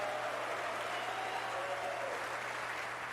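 At a Masters snooker match, the crowd gives a soft, steady patter of applause after a shot, faint and evenly sustained throughout.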